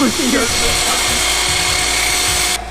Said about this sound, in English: I said use a cutoff wheel.